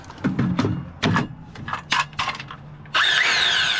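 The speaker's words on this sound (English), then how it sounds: "I just love the Makita saws." A Makita cordless saw, fresh out of the box with a battery fitted, starts up near the end and runs loud and steady after a few clunks and handling knocks on a boat stair-building job.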